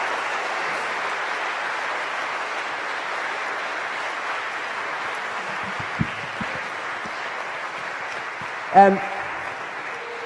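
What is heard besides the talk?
audience applause for panelists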